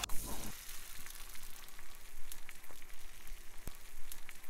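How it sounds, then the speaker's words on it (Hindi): Boiled black chickpeas tip into sizzling tomato masala in a pan, a loud burst of splashing then steady frying crackle with sharp pops, heard alone without talk. "अब इसमें जाएंगे उबले हुए चने"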